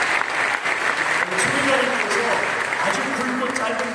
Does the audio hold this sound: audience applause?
yes